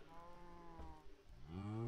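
A cow in the video game Minecraft lets out a low, drawn-out moo, followed by a second, louder moo near the end, faint overall with no talking.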